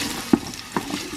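Garlic, onion and tomato cooking in a pan: a soft frying sizzle broken by a few quick stirring scrapes and clinks, close and brief.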